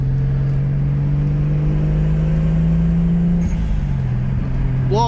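A turbocharged Toyota Supra with a 7M engine and five-speed gearbox drones loudly and steadily from inside the car, then the engine pitch drops, and a quick fluttering chirp from the blow-off valve comes at the end.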